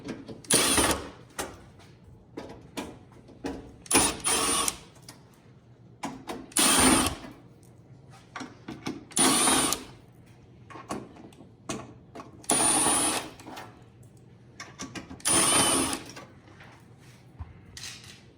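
Screws being backed out of a GE Profile Opal countertop ice machine, heard as close, repeated bursts of ratcheting screwdriver clicks and small mechanical rattles separated by short quiet gaps.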